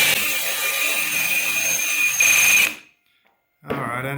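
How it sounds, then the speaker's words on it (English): A power drill with an arrowhead bit grinds into a glass bottle under light pressure, a loud, steady high whine that cuts off abruptly, goes silent for a moment, then briefly starts again. "So we're going to try the last one, which is drilling through glass."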